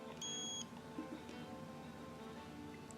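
A multimeter gives a single short, clear continuity-test beep near the start while wiring is checked on a Marshall JTM30 tube guitar amplifier, then quiet room noise follows.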